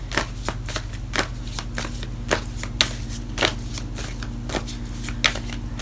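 Tarot cards are shuffled by hand in repeated soft riffles and taps, close and fairly quiet, over a low steady background hum.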